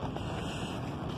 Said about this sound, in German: Ist zwar ein bisschen windig